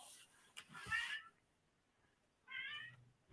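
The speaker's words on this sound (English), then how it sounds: "our daughter's cat is meowing now" A pet cat meows indoors, two short distinct cries separated by a quiet pause, fairly close and clear against a hushed room.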